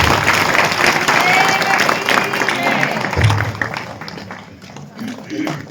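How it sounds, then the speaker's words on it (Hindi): Audience at a religious satsang gathering applauds loudly for an honoured guest, the dense clapping fading toward the end while voices carry on underneath. "माननीय विधायक जी के लिए जोरदार ताली बजा के अभिनंदन।"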